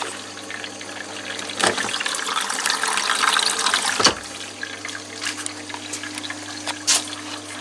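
Water pours and splashes steadily into a washing machine drum as it fills for a rinse, close and continuous, with a low mechanical hum and a few clunks along the way.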